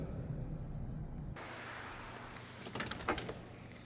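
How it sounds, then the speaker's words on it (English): Door of a 1976 Buick Electra Limited two-door being opened: a hiss of the door unsealing and swinging, then soft clicks and a light thump of the handle and latch, close and quiet. "We're going to pop this door open, check out this interior"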